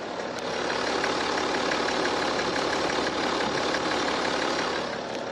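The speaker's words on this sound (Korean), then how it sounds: "바로 엔진 소리 한번 들려드릴게요" A BMW X6 engine with about 80,000 km idles with the engine bay open at a steady, even rumble, close and fairly loud, with a faint rhythmic ticking and no voices.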